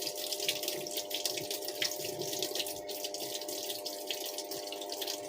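Water pouring into a Samsung 6.5 kg top-load washing machine as it fills, a steady rushing flow with a faint tonal hum underneath, continuous and fairly close.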